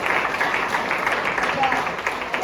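A gathered audience at a school event claps in a steady, moderately loud burst of applause, with a faint tone running beneath it.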